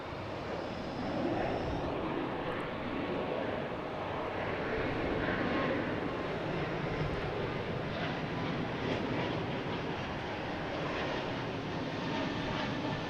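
United Airlines airliner in Continental retro livery, a continuous jet engine rumble and hiss that swells slightly early on and then stays steady, heard from some distance without talk.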